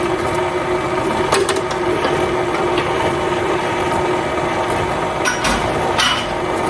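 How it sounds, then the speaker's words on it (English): Electric stand mixer beating red velvet cake batter, a steady loud motor whir with rhythmic knocking and clatter from the beater running continuously throughout. "I'm going to turn my mixer off and I'm going to scrape it down."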